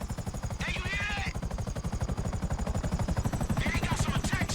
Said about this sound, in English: they got some attack choppers on you.